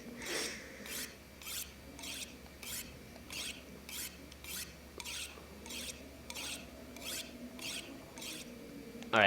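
Rhythmic rasping strokes of a tool being sharpened in The Long Dark repeat about once every second, crisp and even over a low steady game ambience, ending with a brief louder sound.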